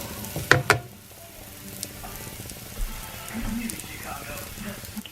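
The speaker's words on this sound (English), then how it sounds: "I'm going to take 2 shells and just let them start to rest in the oil" Taco shells fry in hot oil in a pan, a soft steady bubbling sizzle with a couple of sharp crackles near the start and a voice talking over it.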